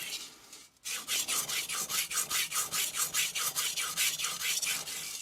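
A Tojiro kiritsuke knife being sharpened on an Arashiyama 1k whetstone, loud, close, steady rhythmic rasping strokes repeating about every quarter second after a short pause, with no talking.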